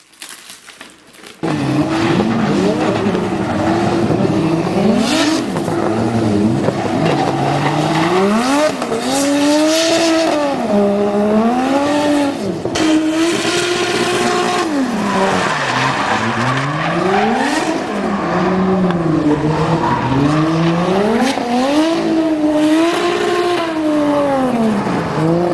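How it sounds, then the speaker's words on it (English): A Ford Falcon with a Barra engine, driven in Australia, roars loudly and continuously as its engine revs rise and fall, with tires squealing and skidding throughout. "So Danny drives a Ford Falcon with a Barra in it in Australia."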